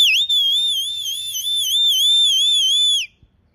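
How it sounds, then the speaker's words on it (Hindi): A long, loud, wavering high whistle used to guide flying Gola pigeons, rising and falling in pitch for about three seconds before cutting off abruptly, with no talking. "मुझे सीटी मारनी पड़ती है क्योंकि कबूतर मैं भी साथ में उड़ाता हूँ"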